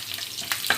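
Green chillies frying in hot oil with mustard seeds and curry leaves for a tempering, giving a steady sizzle with a couple of sharper spits and crackles.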